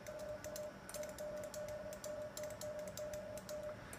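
The vacuum relay in an Ameritron ALS-1300 amplifier clicks rapidly while CW is keyed at 41 words a minute in semi-break-in mode. Quick, crisp clicks tick steadily alongside a faint, steady tone, with no talking.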